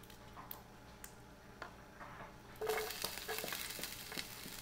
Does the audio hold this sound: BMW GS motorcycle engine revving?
no